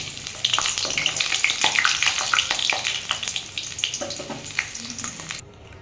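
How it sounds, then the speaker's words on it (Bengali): Potatoes frying in hot oil for a mutton curry, a close, loud crackling sizzle with popping bursts and stirring that holds steady before easing off at the end. "আলুটা আমি ভেজে নিই"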